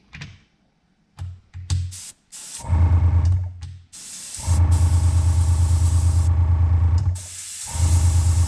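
An airbrush sprays paint onto a fishing lure blank in a few quick puffs, then in longer hissing bursts with brief pauses between them, loud and close.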